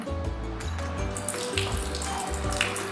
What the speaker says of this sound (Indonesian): Buka keran.